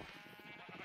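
Sheep in the Minecraft video game bleat faintly in a quick series of short, wavering calls, with no talking.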